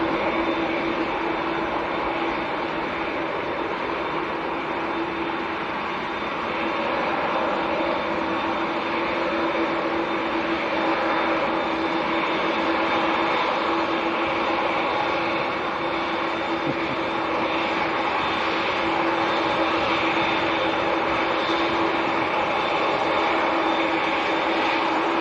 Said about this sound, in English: Let's get a close up of this TUI Dreamliner